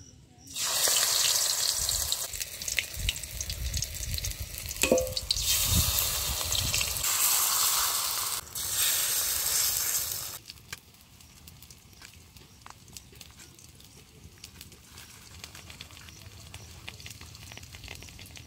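Flowers dipped in batter frying in hot oil, a loud bubbling sizzle for the first ten seconds that then drops to a quieter, thinner fizz, close and without talk.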